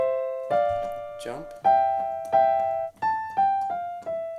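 Piano passage from Mozart's Turkish March, a run of clear, separate notes struck one after another at a moderate pace, close and moderately loud, with each note ringing and decaying before the next.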